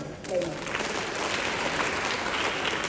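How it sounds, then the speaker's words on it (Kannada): An audience applauding at a literary conference, a dense, sustained wash of clapping filling the hall from start to finish at even loudness. "ಒಂದಿಷ್ಟು ಚಪ್ಪಾಳೆ ಹೊಡೆದ"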